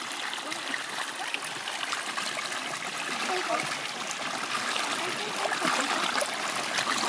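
Continuous rushing, splashing borewell water pouring into an outdoor tank where children are bathing, fairly close, with faint voices blended into the noise.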